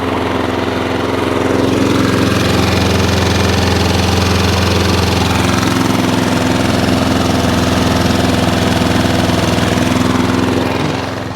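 Lawnmower engine idling loud and close, a steady low throbbing drone with a constant mechanical hum and no voices.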